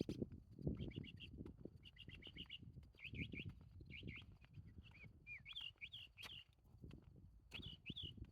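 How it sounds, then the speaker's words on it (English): Small birds call in short chirping bursts and repeated two-note whistles from a desert landscape, moderately near, over a soft rustling background of footsteps and breeze. "you hear the birds, but you rarely see them."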